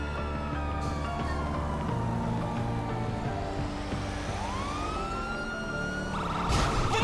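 Police siren wailing in GTA V during a thunderstorm, rising and falling over steady game music for several seconds and swelling at the end, with no talking.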